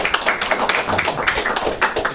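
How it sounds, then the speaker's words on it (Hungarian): An audience applauds at a talk on the Lovejoy comet, a burst of sharp, irregular claps from several people that is loud and close and continues throughout. "Hát már tapsol."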